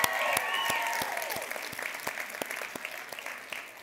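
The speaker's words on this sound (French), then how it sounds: "vous pouvez déjà vous applaudir, on a une foule record ce soir!" Audience applause at a live talk show in front of a record crowd, a steady wash of clapping from many hands with a few sharper nearby claps standing out, and voices murmuring faintly underneath.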